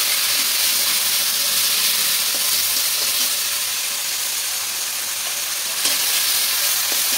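Food sizzles steadily in a hot frying pan as soy sauce is stirred in while a potato and flour breakfast dish is cooked, with a constant loud hiss and faint scraping throughout and no voices.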